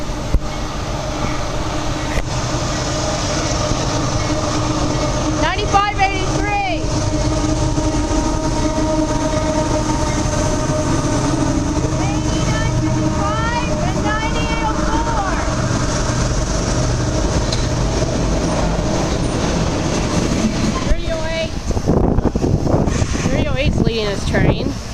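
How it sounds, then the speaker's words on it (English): Freight train led by locomotive 3100 rumbling steadily past at close range, a continuous heavy roar with wind buffeting, faint wheel squeals and brief voices talking over it near the end. "Leading his train."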